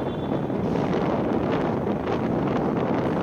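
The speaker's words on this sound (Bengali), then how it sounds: "হাওয়ার এত তেজ, হাওয়া ধাক্কা মেরে ফেলে দিচ্ছে" Strong, cold wind on Iceland's south coast by the Atlantic roars and buffets the microphone in a steady, heavy rush of noise with no pauses.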